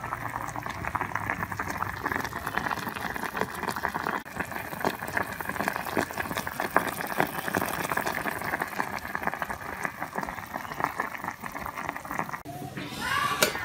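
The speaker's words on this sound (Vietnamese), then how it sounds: "Tôi sẽ đun thêm một lát nữa" Pork simmers in a pot on a home stove for a Vietnamese boiled-meat dish, with water bubbling steadily and close for the whole stretch, a continuous rolling boil.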